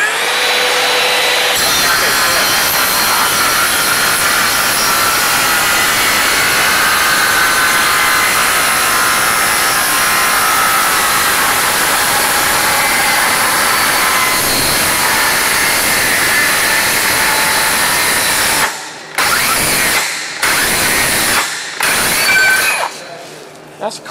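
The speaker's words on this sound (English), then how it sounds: "Which is going to allow me to use the standard Makita circular saw to cut some really thick metal." A Makita cordless circular saw fitted with a Diablo blade grinds through a thick steel I-beam in a loud, continuous, harsh cut lasting about seventeen seconds, then stops and restarts in short bursts.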